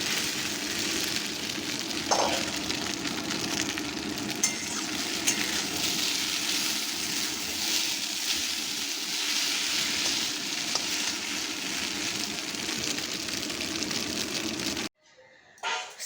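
Egg Maggi noodles cook in a pan, giving off a continuous sizzling, frying hiss with faint stirring sounds, and a short utensil clink early on. The sizzle cuts off abruptly near the end.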